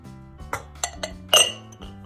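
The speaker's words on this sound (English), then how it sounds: "I'm just gonna whisk that." Egg yolks and sugar being whisked in a medium saucepan: a few sharp metallic clinks of the whisk against the pan, close and distinct, over soft steady background music.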